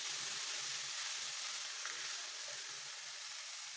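Boiled peas, carrot and soya mince fry in a pan over medium heat, giving a steady, close, even sizzle with faint stirring scrapes underneath and no voices.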